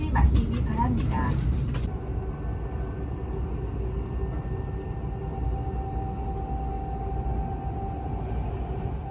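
Steady interior rumble of a moving train in Japan, a continuous low drone with faint tonal hum throughout, with a brief burst of higher noise at the start before settling into even running noise.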